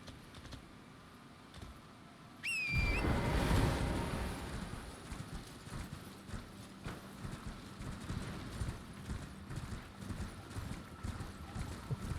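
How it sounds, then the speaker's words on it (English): A horse gallops in the Elden Ring video game, with rapid rhythmic clip-clop hooves that begin after a short whinny-like cry and keep up steadily, fairly loud, under faint background game sound. "Oh, I can ride my horse here."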